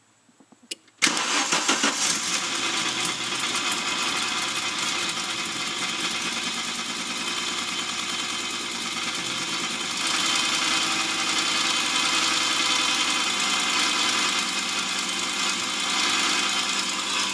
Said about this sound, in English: we got a running UR Quattro